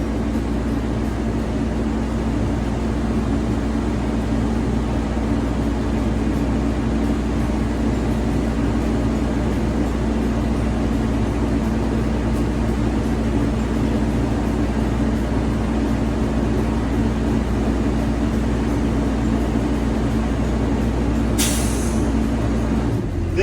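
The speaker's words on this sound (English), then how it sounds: "I want to listen for the governor to kick out when it builds to maximum pressure." A bus air brake compressor runs steadily, building system pressure in a loud, continuous drone, then the governor cuts out near the end with a short hiss of released air.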